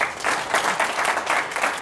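A conference audience gives a round of applause for the speaker Brian Yacktman after his talk on investments and portfolio management, the clapping dense and sustained, steady and fairly close without a break.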